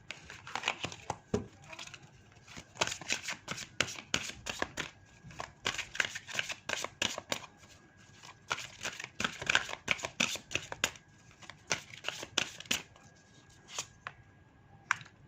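A deck of cards is shuffled and handled in repeated quick riffling bursts, crisp and close, with short pauses between rounds and no talk.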